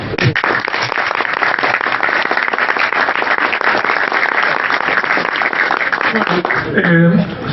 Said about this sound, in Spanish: la verdad que el aplauso tiene que ser para ustedes